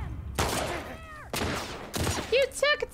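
Three sharp bursts of gunfire ring out in The Last of Us Part II, each decaying with echo, and voiced game chatter follows.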